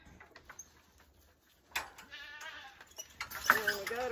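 Farm goats bleat in short wavering cries, one emerging midway and more overlapping toward the end, close and fairly loud amid faint background noise.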